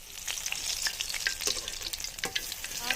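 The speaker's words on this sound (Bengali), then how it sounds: "ধনিয়া পাতা খুব ভালোভাবে বেসন অ্যাড করে নিলাম, এখন প্যানেতে দিয়ে দিলাম" Coriander-leaf and gram-flour pakoras frying in a pan of oil, a dense, bright crackling sizzle that stays loud and continuous from start to finish.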